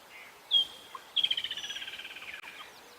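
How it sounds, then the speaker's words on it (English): Birds call at sunrise on safari, among them cisticola and doves: a sharp chirp, then a rapid descending trill of repeated notes, fairly close and clear over quiet background hiss. "I can hear a cisticola somewhere in the distance as well, and a lot of different dove species."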